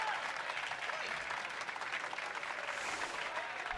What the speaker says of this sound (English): We've got a full crowd there